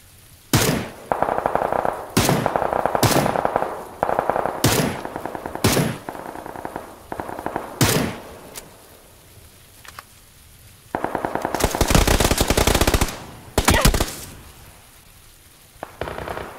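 Automatic gunfire from PUBG comes in loud bursts of rapid shots separated by pauses, with one longer dense volley near the end and no talking.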